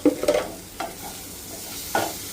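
Onions with ginger garlic paste, cumin powder and coriander powder stirred in a pan: a few close, scraping strokes of a spoon against the pan over a faint sizzle.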